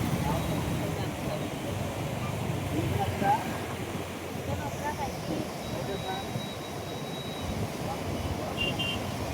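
Floodwater roars through the Dowleswaram Barrage in a continuous, dense rushing wash like a waterfall, steady and unbroken throughout, with faint higher tones above the noise.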